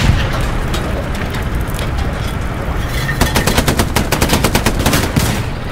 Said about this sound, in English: Let me see if I can fire inside his turret.